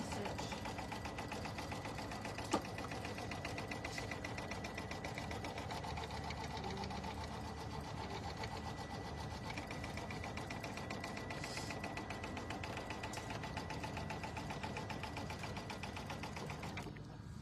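A sewing machine stitches a tack-down stitch on a quilt, its fast, even mechanical chatter running steadily and close for the whole stretch.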